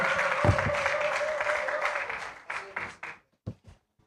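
A church congregation applauding to welcome the arrival at the altar, a dense burst of clapping that thins into scattered claps and stops near the end.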